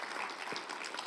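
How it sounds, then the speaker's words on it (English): A live audience at a gospel singing competition claps for the contestants in a brief, dense burst of steady applause. "Let's give them a warm round of applause."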